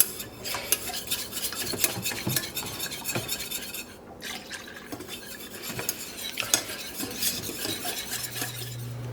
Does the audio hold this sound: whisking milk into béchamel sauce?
yes